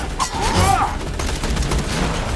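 Gunfire from the Borderlands 2 video game, a continuous burst of game shooting with dense crackling shots and a faint sweeping tone, loud and steady throughout with no pause.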